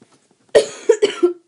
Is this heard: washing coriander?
no